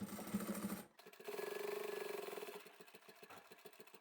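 A sewing machine backstitching fabric, its motor running in a short burst, stopping briefly, then running again in a steady whirring stitch pattern that fades slightly toward the end.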